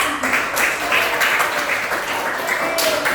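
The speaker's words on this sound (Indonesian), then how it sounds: "Beri tepuk tangan untuk Alvida." Dense applause from a classroom of children, steady and fairly loud, with faint voices mixed into the clapping.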